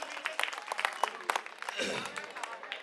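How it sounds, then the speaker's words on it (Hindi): A political rally crowd in Delhi claps in uneven bursts, scattered hands near and far, mixed with voices and a brief low thump partway through. "एक बार चाहूंगा अपने लिए जोरदार तालियां बजा लो आप लोग।"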